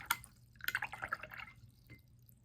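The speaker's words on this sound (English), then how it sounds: "And again, rinse out my brush." A paint brush is swished and rinsed in a jar of water between watercolor swatches, giving a few short, close splashy drips in two quick bursts with quiet pauses between.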